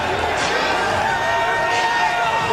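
Large boxing arena crowd jeering as three-time heavyweight champion Evander Holyfield makes his ring walk, a steady, dense roar of many voices with broad noise throughout.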